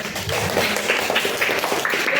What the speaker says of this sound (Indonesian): Tepuk tangan untuk Mas Lani.